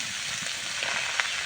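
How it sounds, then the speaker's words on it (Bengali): Chopped khesari and pea greens hitting a hot wok, a steady bright sizzle throughout with a few crackling pops near the end, close and continuous, no voices. "তো শাকটা এবার আমি চুলাতে দিয়ে দিচ্ছি কড়াইতে।"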